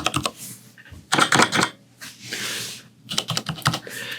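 Bursts of close keystrokes on a Cherry KC 200 MX keyboard with silent red switches, fast clattering runs broken by short pauses and a couple of softer brushing sounds, no talking.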